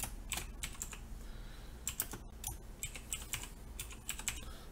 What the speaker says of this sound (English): I'm typing much better than I did last week